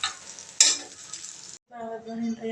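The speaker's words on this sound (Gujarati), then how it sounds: "મસ્ત ખીચડી વઘારી નાખીશું" Khichdi tempered with garlic, cumin, chili, turmeric and salt hits hot oil with a loud burst of sizzling that hisses steadily for about a second, then gives way to a quieter, tonal clatter near the end.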